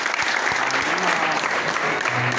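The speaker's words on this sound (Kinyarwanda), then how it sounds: "Twagira ngo duhe Imana amashyi ku bw'iki kiganiro." A congregation at a church youth gathering breaking into sustained applause, a dense continuous patter of many hands, with a voice faintly audible underneath.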